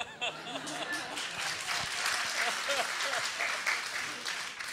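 Audience applause at a lecture on Jewish thought, a steady wash of clapping from a crowd lasting the whole stretch, moderately loud and fairly even, with faint voices mixed in.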